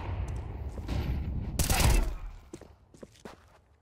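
Gunfire in Counter-Strike 2 arrives as a burst of several sharp shots, the loudest cluster around the middle, followed by scattered fainter clicks and footsteps, with a voice talking over the action.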